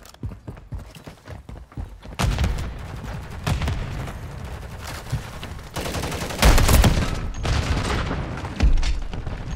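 Gunfire in Call of Duty Modern Warfare 3, a string of rapid shots and louder bursts at moderate distance, growing denser and heavier toward the end.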